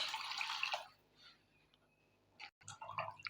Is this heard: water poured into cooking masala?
yes